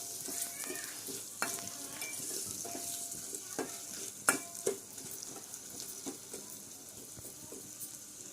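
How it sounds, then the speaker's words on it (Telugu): Chopped onion and green chillies frying in a pan with turmeric and salt, a soft continuous sizzle broken by frequent sharp scrapes and clicks of a spoon stirring, heard close with no voices. "పసుపు, సాల్ట్ సరిపడా వేసి వేయించాలి."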